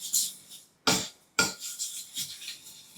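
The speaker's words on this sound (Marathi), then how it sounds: "मंद आचेवर एकसारखं असं ढवळत भाजून घ्यायचं." Sesame seeds dry-roasting on low heat in a pan, stirred in a few distinct scraping, rasping strokes with short pauses between them, close and fairly quiet, no voices.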